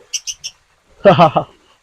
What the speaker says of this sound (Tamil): இங்கால பார்த்தீங்கன்னா நிறைய பறவைகள் எல்லாம் இருக்குது